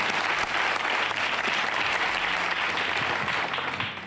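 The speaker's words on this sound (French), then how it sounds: "Je vous propose d'applaudir cette dame quand même pour l'encourager" Sustained studio-audience applause for a woman on a French TV talk show, a dense, steady wash of clapping that holds evenly throughout and tapers slightly at the very end, with no voices over it.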